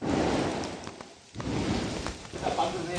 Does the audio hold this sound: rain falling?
yes